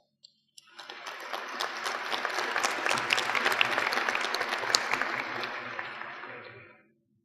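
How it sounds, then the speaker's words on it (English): A large audience claps steadily at the 2014 Bismarck State College commencement ceremony, a dense, loud wave of applause that begins abruptly, holds for about six seconds and then fades out. "Please give them a round of applause."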